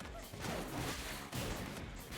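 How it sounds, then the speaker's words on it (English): Explosions in the fighting video game ARMS burst as a noisy, crackling roar under crowd and game effects, fairly faint and continuous with a short break midway. "Another explosion, slowly chipping Nyx's health down"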